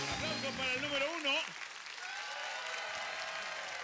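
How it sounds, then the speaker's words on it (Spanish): Studio audience on the Sábado Gigante variety show bursts into steady applause as a host's voice ends, the clapping continuing alone at a moderate level for a few seconds. "Aplausos para el número uno."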